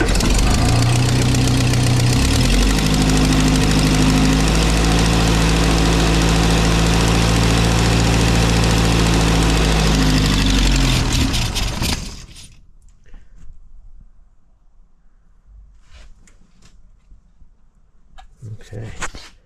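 A Triumph TR4 engine fires up on choke and runs with a loud, rough, steady idle close by for about twelve seconds, then cuts out, leaving quiet with faint handling noises.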